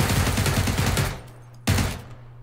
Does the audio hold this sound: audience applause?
no